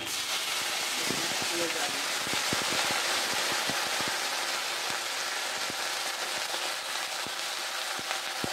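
A little water hits a hot pan of frying ginger for a Bengali potato curry and sets off a loud, sustained hiss of sizzling steam, with scattered pops and crackles throughout.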